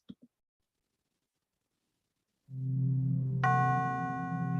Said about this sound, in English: This is the sound of the pound against the dollar.